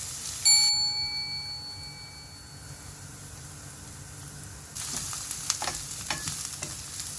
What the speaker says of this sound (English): Adds ground beef to the pan, letting it sizzle and brown.